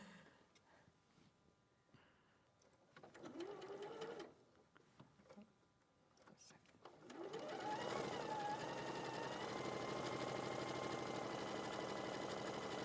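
A sewing machine runs steadily and loudly for the latter half, its motor whirring on without pause after a quieter stretch of faint handling noises and brief bursts.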